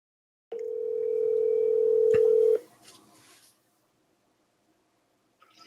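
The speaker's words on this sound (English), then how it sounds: "I'm going to call you on your phone." A phone call tone sounds as a single steady electronic beep held for about two seconds with a click partway through, then cuts off, followed by faint line noise and quiet.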